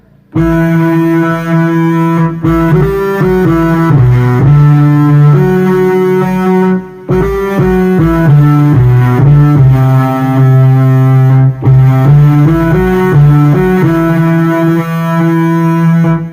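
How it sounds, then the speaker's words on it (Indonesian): A melodic electric guitar line plays the intro of a song steadily and loudly, sustained notes shifting in pitch, with a few brief pauses between phrases. "Ada gitar yang bunyinya seperti ini."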